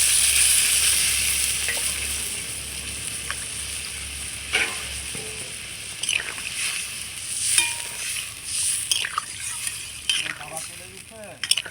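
Cauliflower and potato curry gravy bubbling and sizzling steadily in a pan, a constant close simmer with occasional stirring scrapes and clinks.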